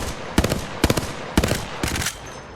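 An Apex Legends weapon fires on single fire in four bursts of sharp, loud reports, each with a short rattling tail, spaced about half a second apart.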